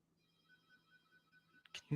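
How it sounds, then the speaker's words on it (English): A phone rings faintly in the distance as a quiet, steady electronic tone with a soft pulsing rhythm, ending in a sudden louder knock. "you hear the phone call? You probably can on this mic."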